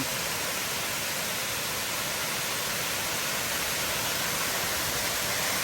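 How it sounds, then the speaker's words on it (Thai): A loud, steady roar of heavy falling water, broadband and unbroken, a powerful waterfall at Phu Kradueng heard up close. "ตอนนี้เราเดินมาถึงน้ำตกเพนพบนะครับ น้ำเยอะมาก"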